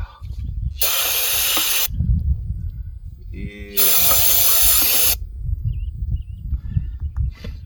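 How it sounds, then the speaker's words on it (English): Brake parts cleaner sprayed onto a 1980s Nissan generator that had sat for ten years, two loud close hissing bursts of about a second each, separated by a short pause, with low rumbling handling noise between them. "sprayed a little brake part cleaner there"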